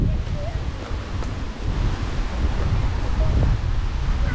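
Wind-driven waves surge and wash in the background at a beach by the Los Rayos lighthouse in Tagum City, while gusty wind rumbles steadily across the microphone.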